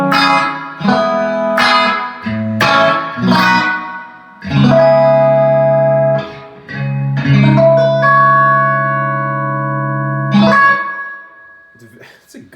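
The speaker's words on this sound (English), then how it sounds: "It's a good sounding digital spring reverb." Electric guitar notes and chords played through a Keeley Caverns V2 digital spring reverb pedal ring out with a springy, splashy reverb tail that lingers and wobbles after each strum.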